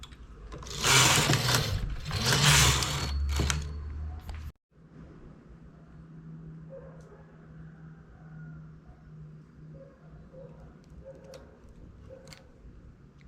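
A knitting machine works on a maternity blouse, with two loud sweeping carriage passes at the start, then quieter mechanical clicks and a low hum while stitches are handled.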